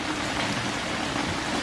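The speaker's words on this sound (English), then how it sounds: "It is raining so hard." Heavy downpour at night heard through a slightly open door in Ixtapa, a dense steady hiss of rain with no pauses, brief and unbroken.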